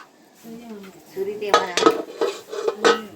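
Metal pots and utensils clatter and clink as freshly steamed idlis are taken out of the steamer pot in a village home kitchen, with several sharp knocks in quick succession and a voice faintly heard in the background.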